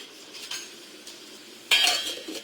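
Appam batter is stirred with a utensil in a bowl and then covered, giving scattered soft scrapes and clinks followed by a brief louder clatter near the end, with no talk.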